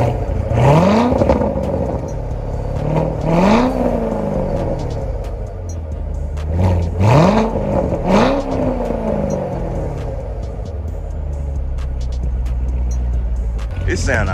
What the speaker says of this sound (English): We're gonna start this up so y'all can hear this exhaust though.